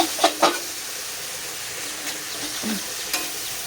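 Food frying in a pan is stirred, with a few sharp scraping strokes near the start and later, over a soft steady sizzle, close up with no talking.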